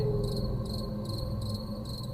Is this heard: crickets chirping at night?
yes